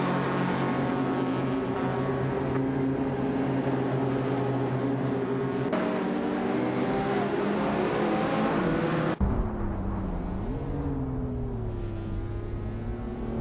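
Race cars in a racing video game, one of them a 1987 Porsche 959, drive side by side with sustained loud engine drones, pitch shifts and gear changes, and an abrupt cut partway through.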